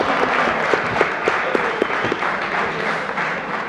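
An audience at a council meeting applauds, with dense, steady clapping from many hands at close range, lasting a few seconds.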